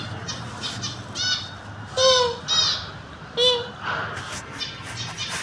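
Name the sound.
voice imitating bird calls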